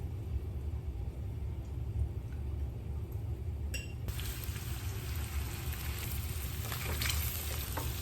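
Salmon frying in a pan with garlic butter, a steady soft sizzle heard close and alone, with a brief clink partway through.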